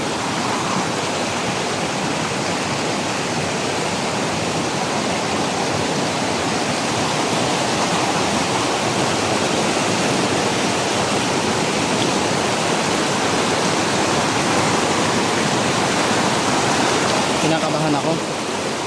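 Rushing floodwater during Typhoon Uwan in Mindoro, a loud, continuous broadband roar of churning water that stays steady and close throughout.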